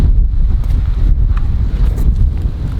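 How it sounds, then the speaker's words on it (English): Steady wind buffets an outdoor microphone beside a newly built chicken coop, a continuous low rumble of gusts lasting throughout with no voices. "It's a little windy out here"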